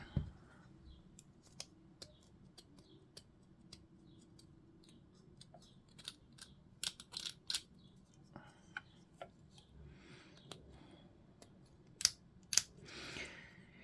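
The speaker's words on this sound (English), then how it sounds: "Too much of that needs trimming down a bit." Cutters trim parts from a model kit with a series of sharp, isolated clicks and snips, mostly faint with a few louder ones, spread unevenly over a quiet room background.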